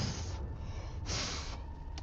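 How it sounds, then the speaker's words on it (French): Heavy breathing in the Five Nights at Freddy's 4 horror game, faint and continuous with hissy gasping swells under a low background drone. "C'était une putain de respiration."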